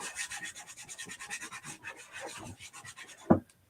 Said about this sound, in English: So I'm going to burnish it.